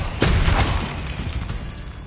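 A Confringo spell explosion in the Hogwarts Legacy video game: a single loud, close boom that breaks out sharply, then a fading rumble with crackling debris.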